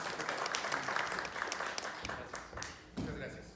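Applause for the set designer at a press conference, a brief round of clapping from a modest crowd that fades after a few seconds, with voices murmuring underneath.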